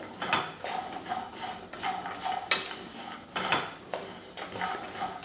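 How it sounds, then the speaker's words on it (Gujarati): Metal spoon clattering and scraping against a bowl while tossing mixed nuts with red chilli, black salt and pepper powder, in repeated close bursts of clinks and scrapes with no talk. "હવે આને એક વખત મિક્સ કરી લેવાનું છે"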